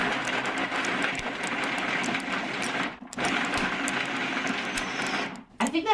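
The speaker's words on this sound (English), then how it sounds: "I'm going to add this to my food processor." A food processor grinds laundry soap into crumbs, a loud steady whirring churn that runs nearly continuously, stops briefly once midway, then restarts before cutting off near the end.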